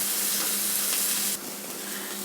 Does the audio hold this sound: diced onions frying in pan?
yes